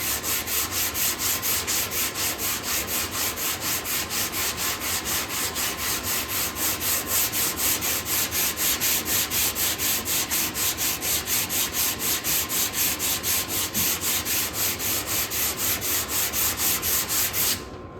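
A sanding block rubs back and forth over the tailgate of a Chevrolet C10, a rhythmic, evenly paced rasp repeating about twice per second, close and loud, stopping at the very end.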